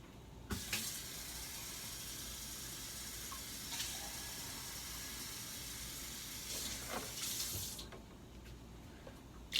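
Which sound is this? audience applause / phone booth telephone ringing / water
water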